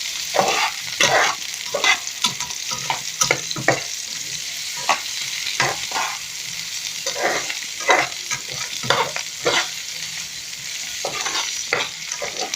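Sliced onions fry in a pan while a spoon stirs them: repeated scraping strokes cut through a constant close sizzle at an irregular rhythm, with no speech.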